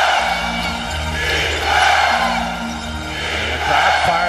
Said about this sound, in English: This Staples Center crowd has been unbelievable during the finals. Cheering against the hated Celtics.